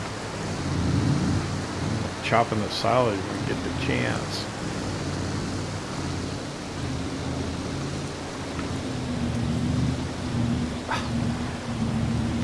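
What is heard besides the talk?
rain and thunder in Farming Simulator 22 video game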